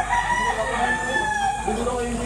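A yellow-legged stag rooster at a poultry market gives a drawn-out crow lasting about two seconds, close and fairly loud, over steady market background noise.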